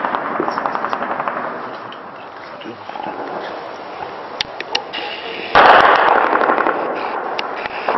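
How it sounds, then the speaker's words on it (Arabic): Bursts of distant heavy gunfire aimed at houses in Zabadani, Syria, in 2012, crackle in sharp volleys over a noisy background, growing louder and denser toward the end. "اطلاق رصاص كثيف على المنازل"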